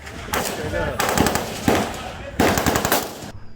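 A .50 caliber gun fires outdoors, with several loud, sharp close reports in quick succession, each trailing a ringing echo before cutting off abruptly.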